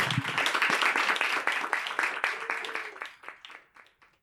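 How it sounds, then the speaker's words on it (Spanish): A small audience applauds for Camila Fabri, a brisk round of clapping that holds for a few seconds and then thins out to scattered claps, with a voice briefly audible. "Un fuerte aplauso para Camila Fabri."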